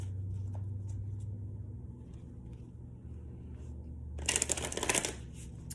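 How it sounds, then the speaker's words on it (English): Tarot cards shuffled by hand, a close, brisk riffling burst near the end over a low steady hum. "let's shuffle the tarot now"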